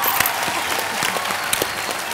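A television game show's studio audience claps loudly and steadily, a bright, crowded wash of hand claps with a few sharper slaps standing out, sustained for a couple of seconds without speech.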